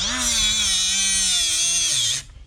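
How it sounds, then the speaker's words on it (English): A cutoff wheel slices through a steel braided hose with a nylon coating in a loud, continuous high whine. The pitch sags slightly as it bites, then the wheel drops off and spins down near the end. "So what I've been doing is just use my cutoff wheel."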